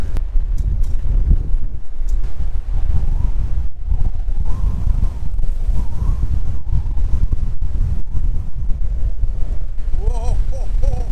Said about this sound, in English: it's just so strong, the wind